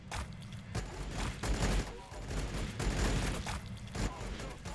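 Sustained artillery barrage in the strategy video game Warhammer Battlesector, a dense run of overlapping booms and blasts rolling on for several seconds with a voice speaking faintly beneath.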